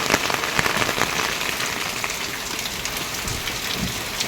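Heavy rain pours outside a house in Odisha, a dense, constant drumming of drops on surfaces, near and loud throughout, with no one talking.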